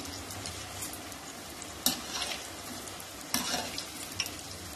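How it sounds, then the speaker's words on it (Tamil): Ragi bonda fry in bubbling hot oil in a pan, giving a steady close crackling sizzle with a few sharper spits and stirring clatters along the way. "அந்த பாயிலோட சவுண்டை வச்சே நீங்கள் கண்டுபிடிச்சிக்கலாம்."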